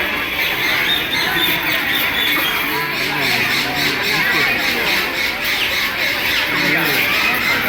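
Indian hornbill squawking at Alipore Zoo in Kolkata, with repeated harsh calls rising over the steady babble of a large crowd chattering nearby.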